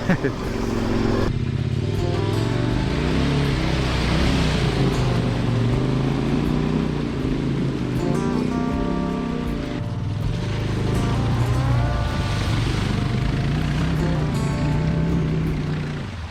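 A motorcycle on an Idaho backcountry adventure ride crosses a creek, its engine droning and revving steadily as water splashes, loud and close throughout the ride.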